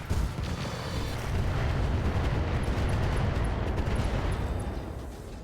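An Annihilator mech in the game RogueTech fires in cluster mode, unleashing a sustained roaring barrage of rapid blasts and a low rumble that swells and fades over several seconds, with no talking.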